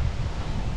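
Gusty wind blowing outdoors by a tall tree being taken down, a steady low rumble of wind buffeting the microphone throughout, loud and close with no other sounds.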